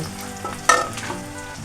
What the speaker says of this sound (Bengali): নতুন পেঁয়াজের পাতা এবং পেঁয়াজ ভালো করে ভেজে নেওয়া হচ্ছে